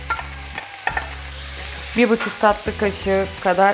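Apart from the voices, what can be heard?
stirring and frying peppers and tomatoes for çoban kavurma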